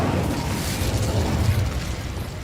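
Incendio fire spell in the Hogwarts Legacy video game, a continuous roaring whoosh of flame with a rumbling, crackling burst quality, loud and sustained without pause.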